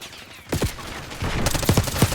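Bursts of gunfire during a Call of Duty multiplayer match, a few quick rattling volleys fairly distant and modest in volume, growing busier toward the end.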